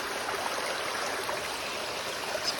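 A cold stream rushes outdoors in Puerto Rico, a steady broadband wash of flowing water with gurgles and small splashes, close and continuous with no voices.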